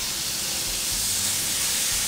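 Beef sirloin steak sizzling in a nonstick frying pan, a steady close hiss with faint low crackles underneath and no talking.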